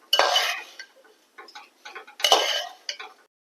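A metal spoon scrapes and clinks against a pan while ghee rice masala sautés, in two longer scraping strokes with short taps and clicks between them, close and clear.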